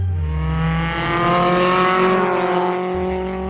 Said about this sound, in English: Mazda's brand new baby racing car at Winton